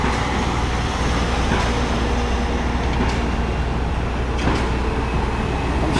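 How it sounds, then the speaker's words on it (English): Container trucks drive by on a busy street, giving a loud, continuous low rumble of heavy traffic with engine drone and passing roar. "I'm sure you can hear the noise from these trucks as they go by."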